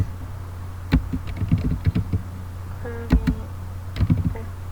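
Keystrokes on a computer keyboard while entering switch interface commands in a network simulator, a quick run of crisp clicks in irregular bursts with short pauses, close and moderately loud over a steady low hum.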